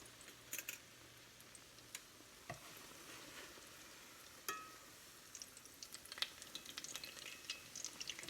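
Chili peppers frying in hot oil for chili rellenos, a soft steady sizzle with scattered clicks and taps as a spatula gets under them and flips them, quiet and close with no talking.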